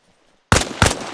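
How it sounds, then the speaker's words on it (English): Two loud gunshots are fired at a cube in the video game ARMA Reforger, close and sharp about a third of a second apart, after a moment of near silence. "We can shoot it"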